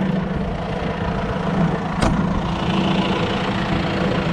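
A tractor engine runs steadily while ploughing a slope, a close, constant low rumble with one sharp knock partway through and no talk.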